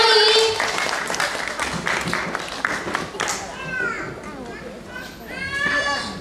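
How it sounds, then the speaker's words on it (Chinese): Clapping from an audience at a children's music school recital, honoring a young ensemble; dense patter fills the first few seconds while children's voices chatter and call out over and after it. "大家给他们掌声的热烈欢迎"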